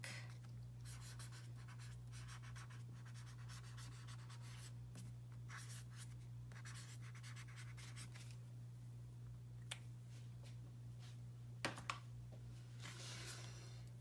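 Pen writing on the back of a sheet of sticky-backed material makes faint, close scratching and rubbing strokes in short bursts over a low steady hum, with a couple of small taps.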